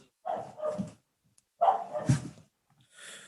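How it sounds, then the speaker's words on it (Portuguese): Several dogs bark outdoors in a few short bursts, moderately loud and fairly close, with pauses between volleys and a brief higher yip near the end. "E aí os outros lá fora começaram a latir, eles resolveram latir também, né?"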